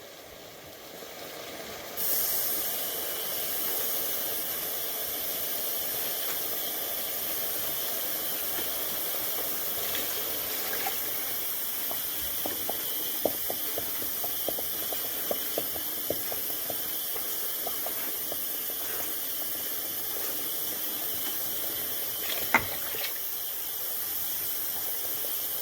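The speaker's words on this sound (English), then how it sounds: "I'm going to add in a few cans of water to get this cleared out" Water pours steadily from cans into a pot of homemade goulash with tomato soup, giving a continuous soft hiss and splash with a few small clinks, fairly quiet and without talk.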